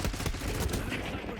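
Rapid hand cannon gunfire from the Call of Duty Black Ops 6 video game, loud, dense, overlapping shots packed into a brief burst with no talk over it.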